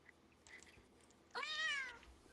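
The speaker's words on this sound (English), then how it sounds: "You hear my cat?" A pet cat meows once, a clear rising and falling call near the microphone after faint background sounds, on a morning show set near a beach.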